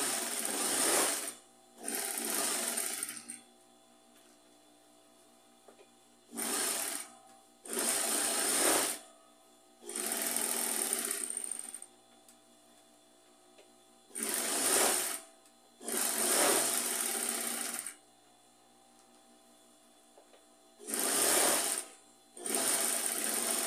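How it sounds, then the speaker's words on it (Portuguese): A sewing machine stitches fabric around a round knit-scrap rug, running loud and close in repeated bursts of a few seconds each, separated by short quiet pauses. "Passar aqui a minha costura em volta para prender esse tecido aqui."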